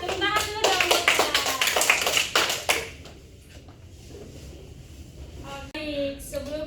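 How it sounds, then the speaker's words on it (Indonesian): A classroom of students claps together in a burst of loud, dense applause lasting a few seconds, then it fades to a quiet room with scattered rustling before a voice begins speaking. "Tepuk tangan dulu dong buat kita"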